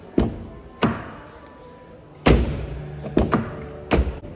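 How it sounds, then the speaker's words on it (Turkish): Several sharp, solid thuds of Renault Taliant car doors shutting nearby: two spaced apart, then a cluster of three more, with quiet pauses between. "kapı seslerimiz bu şekilde."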